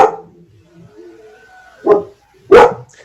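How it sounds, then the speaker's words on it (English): A dog barks during an online public hearing meeting, with a soft whine first, then two loud, close barks about half a second apart, rough and abrupt, with no talking. "I'm sorry my dog is speaking"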